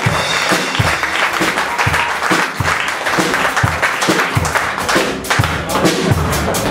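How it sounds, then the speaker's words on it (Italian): Pub audience applausing hard for a performer, dense continuous clapping at close range with rhythmic thumps running beneath, holding steady throughout with no pauses. "Quindi facciamo un applauso a Stefano,"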